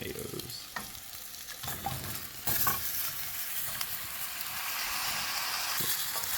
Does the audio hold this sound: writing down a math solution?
no